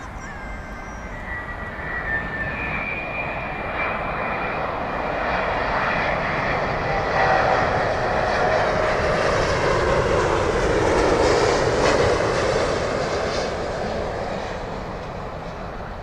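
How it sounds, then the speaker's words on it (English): A Delta Airbus A330neo lands on runway 27L at London Heathrow, its jet engines a loud, broad roar that swells as it passes, peaks near the middle and slowly fades, heard from a distance with no voices. "the A330 Neo from Delta, landing now"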